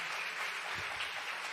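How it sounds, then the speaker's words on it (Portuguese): A church congregation claps together in a worship service, a soft, steady patter of applause throughout the moment, heard alone without voices. "Pode aplaudir o Senhor. Pode aplaudir."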